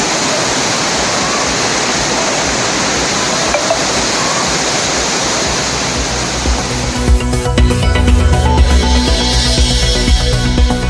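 The Panchalinga waterfall at Thirumoorthy hills near Tiruppur is in flood: a dense, steady roar of rushing water fills the first seven seconds, then the texture shifts into a busier, louder mix of churning water and clinks.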